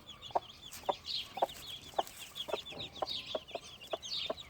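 Chickens and young chicks cluck in a steady series of short, evenly spaced calls, with higher cheeping chick peeps running underneath, fairly close and without speech.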